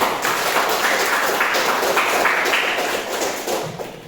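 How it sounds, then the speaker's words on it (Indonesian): A group of people in a classroom clap their hands together, a dense, steady patter of many hands that keeps going for several seconds, then thins out and stops near the end. "Mari kita tepuk tangan lagi."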